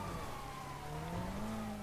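A police siren wails faintly in a driving video game, its tone rising slowly behind a low engine drone, distant and quiet throughout.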